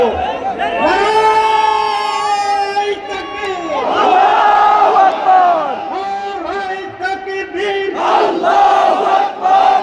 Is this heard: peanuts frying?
no